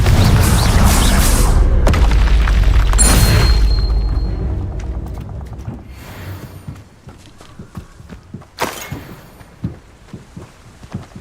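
Heavy booming Confringo spell explosions from Hogwarts Legacy rumble loudly for several seconds, then fade into quieter spell impacts, footsteps and scattered game effects.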